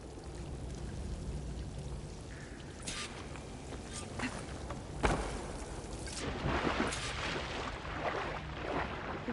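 Water pours and trickles in a cave hot spring in the video game Horizon Forbidden West, a soft, steady flow with occasional splashes, fairly faint throughout.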